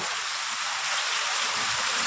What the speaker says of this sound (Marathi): पाऊस आला पाऊस